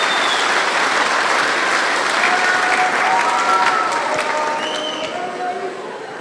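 A crowd at a sheep shearing and wool handling open final applauds its four finalists, a steady sustained round of clapping with voices and cheers mixed in, tapering slightly at the end.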